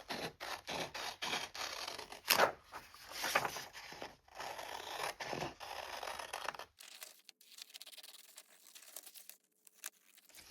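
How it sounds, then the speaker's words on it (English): Scissors cutting printed paper calendar inserts, a series of close, sharp snips and crisp paper rustles in quick irregular bursts, then quieter handling of paper. "So I'm going to cut inside the lines."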